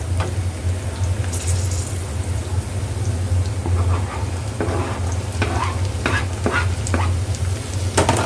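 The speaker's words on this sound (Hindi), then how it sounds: "इसको हम कर लेंगे हाई हीट पे फ्राई अच्छे से।" Onions fry on high heat on a gas stove, giving a steady loud sizzle with scraping stirring strokes scattered throughout.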